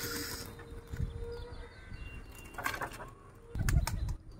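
Pigeons burst out of an opened loft with a few close, loud flurries of flapping wings over a low background rumble, the last flurry the strongest.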